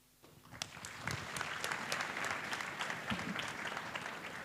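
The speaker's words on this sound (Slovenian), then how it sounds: "Še enkrat aplavz za naše študente." Audience applause for students at an undergraduate university information day, starting after a short quiet lead-in and holding as dense, fairly close clapping for several seconds.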